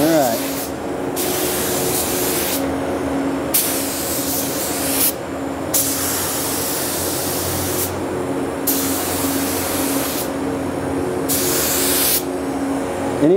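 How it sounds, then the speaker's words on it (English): A spray gun paints car bumper covers on a Subaru STI in repeated hissing bursts of a few seconds each, separated by short pauses, over a steady mechanical hum. "Anytime you guys are going to spray bumper covers, please, for the love of God, make sure that you do your edges first"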